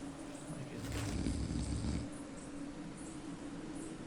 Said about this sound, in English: a snoring sound begins